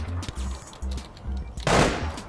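Rapid automatic gunfire from the online shooter game APB Reloaded, several short bursts of shots fired in quick succession, fairly faint in the mix with a louder final burst.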